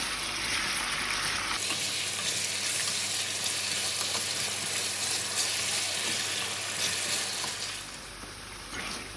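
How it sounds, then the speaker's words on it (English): Beef stirred through a tangy braai and barbecue sauce in a pan on lowered heat, a steady close sizzle with faint scraping that eases slightly near the end. "Then I'm gonna give it a nice stir."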